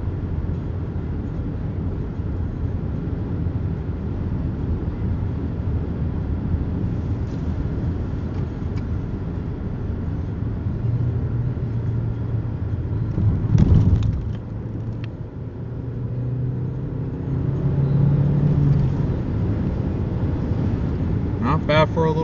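Steady low engine drone from inside a Chevy Cruze with a turbocharged 1.4-liter four-cylinder and six-speed manual, driving along with a constant road rumble, a brief bump midway and a rising hum toward the end.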